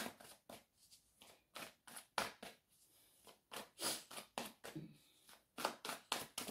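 Oracle cards being handled and shuffled, a series of quick crisp riffling and sliding bursts close by, irregular in rhythm with brief pauses, fairly quiet.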